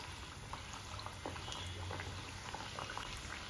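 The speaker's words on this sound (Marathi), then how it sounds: "दोन्ही बाजूंनी छान ब्राउन कलर येईपर्यंत आपण ही पुरी फ्राय करून घ्यायची आहे" Pumpkin puris deep-frying in oil over a medium flame, a steady dense bubbling with faint crackles throughout, continuous and close, no voices.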